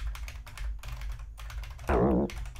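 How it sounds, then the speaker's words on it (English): Letters being typed on a computer keyboard, a run of quick, close clicking taps in uneven bursts, briefly joined by a short voice. "You can just type the letters."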